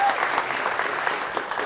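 Audience applause at the Open Summer of Code Belgium 2022 demo day, a steady, dense wash of many hands clapping that fills the room without a break.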